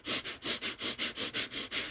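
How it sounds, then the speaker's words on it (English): Rapid rhythmic breathing through the nose in a yoga exercise, about ten quick, close, evenly spaced sniffing pumps in two seconds, with no talking. "we're going to begin to breathe in and out through the nose"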